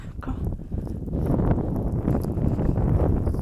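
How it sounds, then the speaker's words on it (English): Strong wind buffets a microphone on a cold, snowy walk with a Pomeranian dog, a loud continuous low rumble that swells after the first second and stays heavy to the end, with faint rustling and possible footsteps beneath. "it's very windy and so cold"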